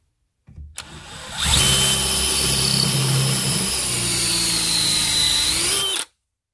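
A power drill spinning a swage tool in copper tubing whines steadily for several seconds after a brief start-up, loud and close, then cuts off abruptly.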